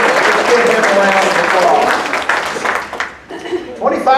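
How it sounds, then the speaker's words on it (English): An audience at a college fall kickoff event applauds in a broad, sustained clatter for an honoree, fading toward the end as a voice begins speaking over it. "give him a round"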